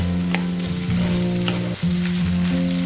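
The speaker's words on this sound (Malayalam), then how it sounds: "ഇതെല്ലാം കൂടെ നന്നായിട്ട് ഇങ്ങനെ മിക്സ് ചെയ്തെടുക്കുക." Macaroni and egg masala stir-fried in a pan, with a close, continuous sizzle and occasional scraping stirs over a steady tonal hum, no speech.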